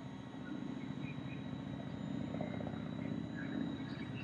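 Hubsan Zino quadcopter drone lifting off and hovering after a firmware update, a steady high-pitched whirring buzz of propellers held at a constant level throughout, fairly close, with no talking.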